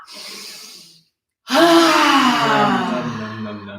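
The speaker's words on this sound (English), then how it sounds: "Let's take the air that we're all going to take a deep breath in right now." A group of people draws a deep breath together, a soft breathy sigh-like intake, a pause of silence, then a louder, longer collective inhale and exhale close by, with no talking.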